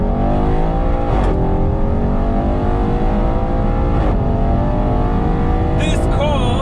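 Audi RS6 engine droning steadily with strong low rumble and rising harmonics, a close in-cabin sound that swells in brief revving surges, with someone talking over it.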